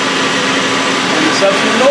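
A Citizen M20V 10-axis Swiss CNC lathe's main spindle runs at 5,000 RPM, recorded close up: a steady, even mechanical whir with faint tonal lines over broadband hiss, holding one level with no change in volume.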